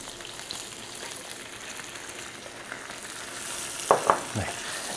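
Sauce simmering gently over low heat in a pan after about two-thirds of a cup of water is added, for an Italian pasta. It makes a steady soft sizzle and bubble, with a couple of sharp utensil clinks near the end.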